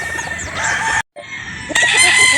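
A gamefowl rooster at a game farm in Batangas crows loudly and close, with clucks around it, the call briefly cut off and then resuming, with no talking.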